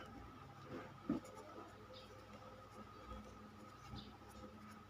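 A pen writing numbers on paper, with faint, steady scratching strokes running through the whole stretch and one louder tap or scrape near the middle.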